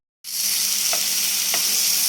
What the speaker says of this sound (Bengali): বেশি কড়া ভাজা লাগবে না এরকম ভাজলেই হইব